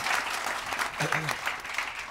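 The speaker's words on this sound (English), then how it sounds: "so please, big applause for everyone here." An audience at an industry event gives a brief burst of steady, moderately distant applause, with a voice briefly heard over the clapping.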